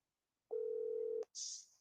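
A telephone call tone sounds during a callback, one steady electronic tone of under a second, then a brief higher hiss, faint and isolated against silence.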